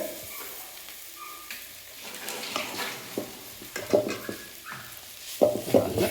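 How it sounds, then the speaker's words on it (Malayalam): Ginger garlic paste sautéing in a hot pan, a soft steady sizzle with stirring scrapes and a few louder clinks of the utensil against the pan toward the end. "വഴറ്റി കൊടുക്കണം ആ പച്ച മാറി കിട്ടുന്നത് വരെ ഒന്ന് വഴറ്റി കൊടുക്കേണ്ടതുണ്ട്"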